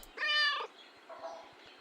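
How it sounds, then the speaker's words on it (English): A cat in the Kentucky Route Zero video game gives one clear, fairly quiet meow, followed by a softer trailing second call. "Go play with this cat."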